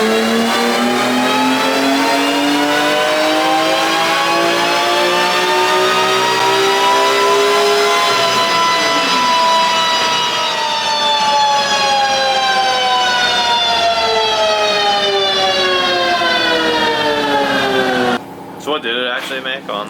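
A BMW E46 M3 fitted with Euro headers screams through a sustained full-throttle dyno pull, its pitch climbing steadily to redline before abruptly cutting off near the end.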